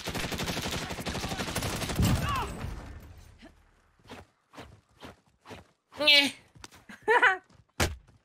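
Sustained automatic gunfire rattles rapidly and loudly for about three seconds in the Call of Duty: Warzone video game, followed by scattered lighter thuds while someone shouts excitedly over it.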